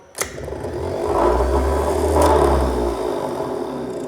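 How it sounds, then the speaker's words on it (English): A rebuilt 6.9 IDI diesel starter motor spins up on a workbench with a sharp click, then a steady close whirring drone that holds for a few seconds before easing slightly. "we're going to activate our activator wire at the same time that we're running the motor"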